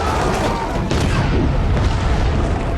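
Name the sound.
explosion in a movie, mushroom cloud over wooden house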